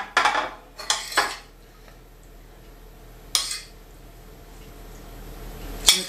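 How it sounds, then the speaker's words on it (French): Onions and lardons spooned into a tartiflette dish, a few sharp close clinks and scrapes of metal utensil against the dish in separate bursts, with quiet pauses between. "on remet des oignons et des lardons"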